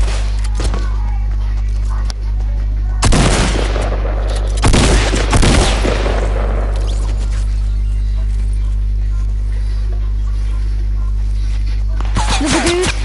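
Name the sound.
gunfire in a PS4 shooter video game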